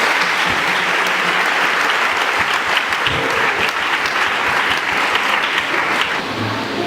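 A church congregation applauds to acclaim the Lord, a loud, dense, steady wave of clapping from many hands that fills the whole stretch without pause.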